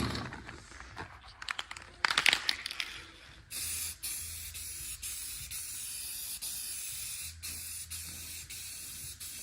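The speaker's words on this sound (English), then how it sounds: "A lot of spray painting in this video." Red primer spray paint hisses from a can onto a 1958 Plymouth in a few short bursts, then in longer steady sprays with brief pauses, close and clear.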